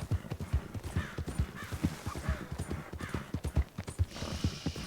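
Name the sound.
horse galloping in the video game Red Dead Online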